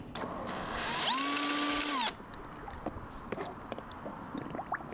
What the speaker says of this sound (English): For the first test run, I'm using power drill to see does this pump even work and will it leak.